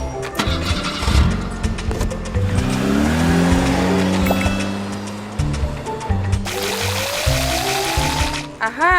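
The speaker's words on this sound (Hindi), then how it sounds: "चल चल गाड़ी स्टार्ट कर।" Small homemade DIY mini truck at a toy road-building site, its motor starting and then running loudly with rising whine and rough revving throughout, close by, with no talking.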